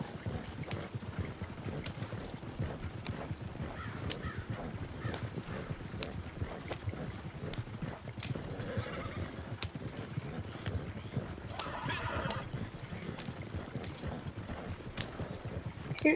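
Video game horse: steady clip-clop of hooves with an occasional whinny, over a constant ambient bed of outdoor noise.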